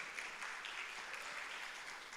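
Applause from a church congregation during a sermon, a steady faint wash of many hands clapping at a distance, continuous and even throughout with no voices over it.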